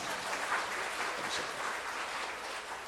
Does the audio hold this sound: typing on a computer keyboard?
no